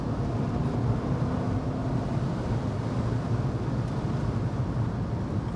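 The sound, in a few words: BMW Z3 sports car driving and accelerating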